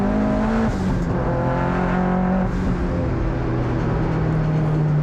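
Turbocharged Mazda MX-5 at full throttle on a wet race track, its engine droning loud and steady with rising and falling pitch through gear changes, up close and continuous without any talk.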